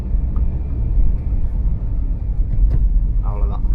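A Hyundai i10 car engine hums on a road while accelerating, a steady low rumble that runs continuously and fairly close throughout.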